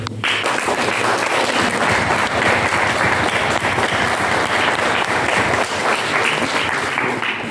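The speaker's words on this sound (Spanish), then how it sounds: "a los cuales les pido un fuerte aplauso" An audience at a formal presentation gives loud, sustained applause, a dense, even roar of clapping hands that holds steady for several seconds with no voices above it.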